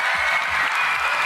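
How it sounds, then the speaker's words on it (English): Audience applause at a live event, a dense steady wash of clapping throughout the short stretch, with faint voices underneath. "I'm gonna clap for you."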